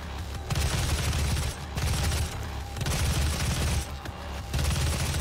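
Dense bursts of rapid gunfire in the Doom SnapMap level "Sandy Crater," loud and sustained in long volleys with brief gaps, heavy booming low end throughout.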